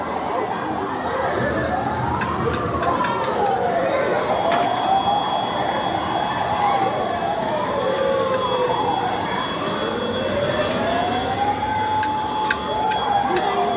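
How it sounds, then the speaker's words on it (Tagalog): A fire truck siren wails in slow rising and falling sweeps, loud and steady, with a high tone and a faint voice underneath. "Ingay bumbero."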